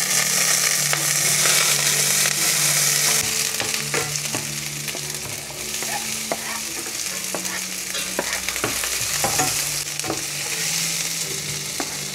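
Vegetables sauté in a pan for bulanglang soup, with a loud, dense frying sizzle and repeated stirring clatters of a utensil against the pan.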